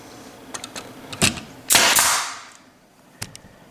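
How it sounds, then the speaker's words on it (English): Nail gun firing finishing nails into coffered ceiling trim, a few sharp close snaps with one louder burst of hiss and clatter in the middle, then a final crisp shot. "Just going to shoot a couple of nails now."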